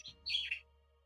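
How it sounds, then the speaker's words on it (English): A single bird sings a brief, high chirping phrase of a few bright notes, clear and moderately close against a quiet background. "listen to that bird song"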